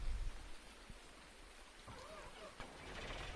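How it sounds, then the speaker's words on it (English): Rain falls in a Farming Simulator 19 game on PS4, a soft, steady, broadband hiss of rain on surfaces with a couple of faint ticks, heard alone at low level. "It's raining here anyway."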